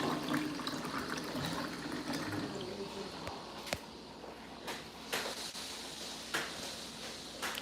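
Water runs steadily into a cup from a tap indoors, a continuous close pour with a few small clinks and bumps near the end, no speech.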